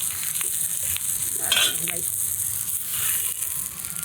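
Fish fries wrapped in banana leaf over a hot clay stove, with a soft, steady sizzle and some crinkling of the leaves, heard close over a constant background hiss.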